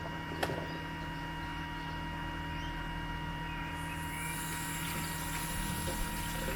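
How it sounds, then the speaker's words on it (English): Water runs steadily into a 10-litre lawn sprayer tank through its filter screen, a continuous close rushing and trickling wash with a low steady hum beneath, with no talk. "So I'm going to fill up the water through that filter screen."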